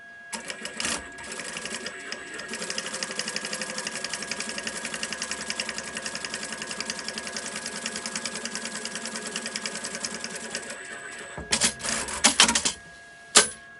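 A sewing machine stitches the side seams of a quilted, lined crossbody backpack, running in a long steady rapid burst that stops, followed by a few short clattering handling noises and brief stitches.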